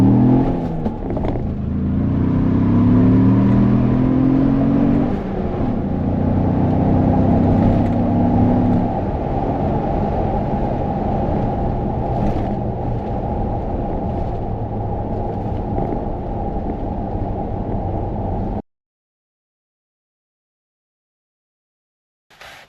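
Ford car with a 2.3L engine accelerating hard from a standstill in a 0 to 60 run: loud rumbling engine rising through gears for about eighteen seconds, then cutting to silence, with no talk.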